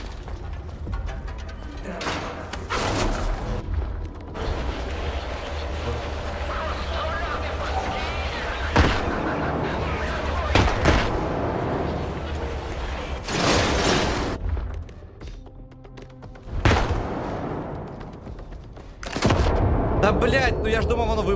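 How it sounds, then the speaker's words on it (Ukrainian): Bursts of gunfire and several sharp blasts punctuate a busy soundscape in the video game S.T.A.L.K.E.R. 2: Heart of Chornobyl, with a person talking throughout. "вибухнуло."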